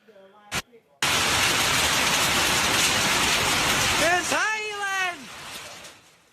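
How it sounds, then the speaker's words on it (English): Dense, roaring patter of hail pounds down continuously during a severe storm in Haralson County, loud and close, with a brief high tone sliding through near the end. "shows that hail pounding as it came down"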